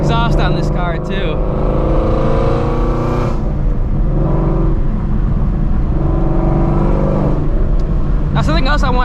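A Shelby GT350 Mustang with factory exhaust and aftermarket headers, driven through town, gives a low engine drone that swells and eases, with someone talking over it.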